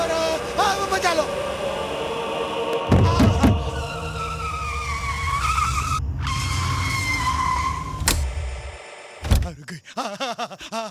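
Car skidding with screeching tires and a loud crash and thumps, engine and metallic clatter over about eleven seconds, with people shouting and talking excitedly throughout.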